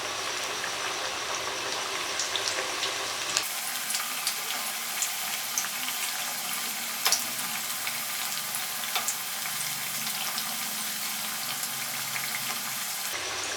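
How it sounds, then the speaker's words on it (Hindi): Potato slices for aloo pakora chips frying gently in oil over low heat, a steady dense sizzle with faint crackles and pops, continuous and close, rising abruptly after a few seconds. "ये देखिए बिल्कुल हल्की आंच पे हम इनको फ्राई कर रहे हैं"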